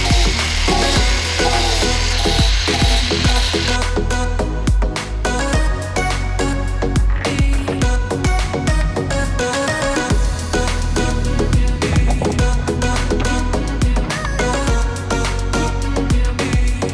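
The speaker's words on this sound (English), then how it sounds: "so I'm gonna grind it off." A power grinder cuts off a protruding part on a catamaran, a loud, continuous, rasping grind close by that shifts in pitch as the tool bites, with no talking.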